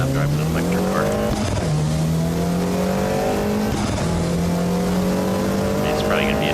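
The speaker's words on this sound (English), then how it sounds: "even though you guys can still hear the game" Racing car engine from a sim racing game revs high and steady, pitch climbing and dropping sharply at two gear changes, with tire squeal hissing over the constant, close engine tone.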